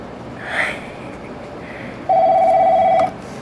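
Telephone ringing as callers phone in to a quiz line, a faint electronic chirp followed by one loud, steady tone lasting about a second over a hissing background.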